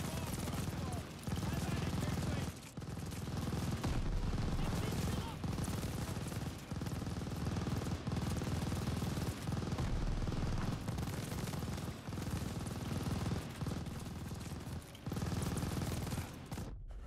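Sustained, dense machine gun fire in the video game Call of Duty Vanguard, a loud and nearly unbroken stream of rapid shots for the whole stretch, with occasional brief dips and faint battlefield voices underneath.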